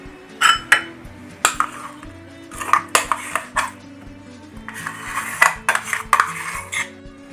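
A spoon beats ground urad dal batter in a metal bowl, giving loud, close clinks and scrapes in uneven bursts with brief pauses between strokes.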